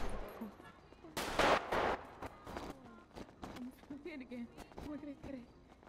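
Gunshots in a role-play video game: a couple of loud sharp bursts early on, then scattered fainter thuds and clicks, with voices talking over much of it.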